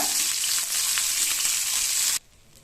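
Rock fish frying in a pan of hot oil, a loud dense sizzle close by that cuts off abruptly near the end, leaving near quiet.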